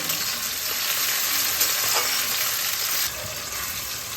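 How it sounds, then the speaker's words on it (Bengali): Chopped onion and a large chopped tomato sizzle steadily in hot oil for a Bengali chana dal with taro dish, a close, even frying hiss with a few faint stirring scrapes and no talking. "এই পেঁয়াজ আর টমেটোটাকে ভালোভাবে আমি ভেজে নেব।"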